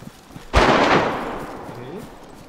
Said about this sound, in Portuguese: Tá atirando aí.